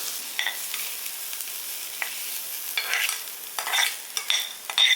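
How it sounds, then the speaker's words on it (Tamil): Idli batter for paniyaram being stirred after hot tempering is poured in, a soft steady hiss with scattered scraping strokes and light clinks, close and alone with no talk. "இப்போ நம்ம தாளித்து கொட்டினதை நல்லா கிளறிக்கலாம்."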